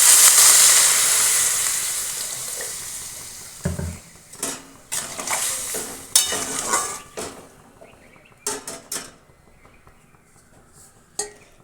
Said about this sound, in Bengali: এবার এর মধ্যে দিয়ে দিচ্ছি পরিমাণ মতো জল।